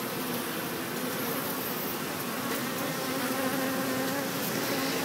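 Dense, steady buzzing of many honey bees from a colony in a wall, continuous and fairly close, with no talk.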